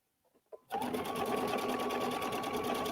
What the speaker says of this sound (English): When I use the grid, I'm actually watching over here as I'm sewing.